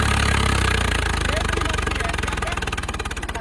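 A Swaraj 855 tractor pulls a 9-foot rotavator through soil in a field, its engine pounding in a loud, close, rapid rhythmic thump that slows slightly over the stretch, with a voice heard over it.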